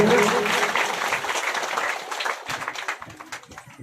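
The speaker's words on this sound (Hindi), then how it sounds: "ऐसे सूरज कोठारी जी, इनके लिए भी तालियां" Applause from an audience at a Hindu religious recitation gathering, starting loud and dense and then thinning into scattered individual claps over a few seconds.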